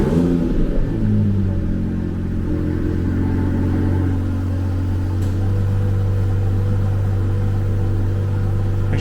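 An Aston Martin DB11 engine cranks and catches, then settles into a loud, steady, deep idle rumble close by, running on alone without talk.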